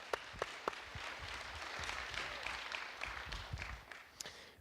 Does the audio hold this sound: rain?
no